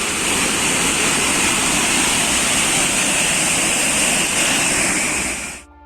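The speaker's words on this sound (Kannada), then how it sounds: "ನಾರಾಯಣಪುರ ಬಳಿಯ ಬಸವಸಾಗರ ಜಲಾಶಯಕ್ಕೆ ಐವತ್ತೆಂಟು ಸಾವಿರ ಕ್ಯೂಸೆಕ್ ನೀರು ಬಿಡುಗಡೆ ಮಾಡಲಾಗಿದೆ" Water released from the Basavasagar dam near Narayanapura, a loud, unbroken roar of rushing water that holds steady throughout and then cuts off abruptly at the end.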